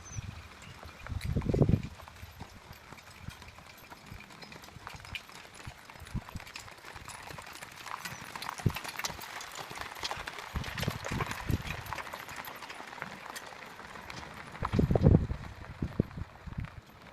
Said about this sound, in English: There is no engine, no noise, only the sound of hooves striking the earth and the soft whisper of the wind.